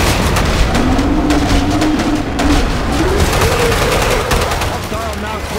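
Loud, continuous gunfire in Killing Floor 2, with rapid shots and bursts over a steady roar while a voice talks underneath.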